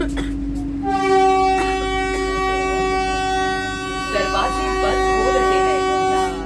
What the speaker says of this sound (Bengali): শুরু হয়ে গেল ট্রেন যাওয়া